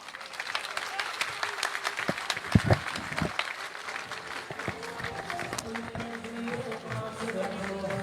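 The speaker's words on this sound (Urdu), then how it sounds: "آپ کی بھرپور تالیوں میں آج کے دلہا تشریف لائیں گے جناب عطا فرید صاحب." An audience at a chamber of commerce election gathering applauds as a speaker arrives, scattered crisp claps with a few sharper bursts, fairly distant and mixed with crowd murmur and movement.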